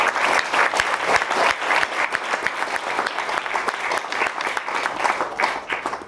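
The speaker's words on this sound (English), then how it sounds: "we can applaud for the excellent work all around" Dense, steady applause fills a hall at a journalism awards dinner, many hands clapping together at an even level throughout with no voices standing out.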